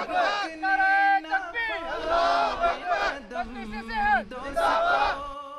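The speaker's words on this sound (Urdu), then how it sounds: "جوش پیدا کرنے کے لیے وہ ایک آواز میں نعرے لگاتے ہیں." Group of German Ahmadi Muslim hikers chanting slogans together at a parking lot at the foot of Feldberg mountain, loud unison voices rising and falling in several bursts, with crowd murmur between shouts.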